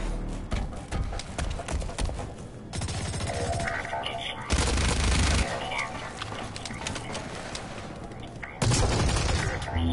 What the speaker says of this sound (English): I shot him with a bolt action rifle.